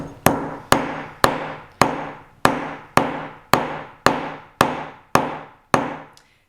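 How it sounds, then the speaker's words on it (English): The hard acrylic end of a rubber-and-acrylic mallet strikes wire wrapped in masking tape in eleven firm, evenly spaced whacks. Each sharp knock rings briefly and decays before the next. "I'm using the acrylic end, so the harder end of the mallet, and I'm going to start bashing this down"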